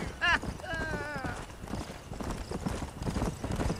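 A ridden horse in Red Dead Redemption, its hooves clopping in a quick, steady rhythm under a brief whinny-like tone and some talk near the start.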